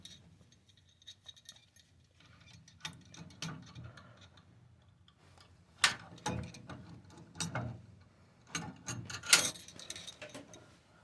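A wrench clicks and creaks while breaking loose the thermocouple feed line fitting on a home boiler's pilot light, giving faint, scattered metallic ticks and a few sharper clacks.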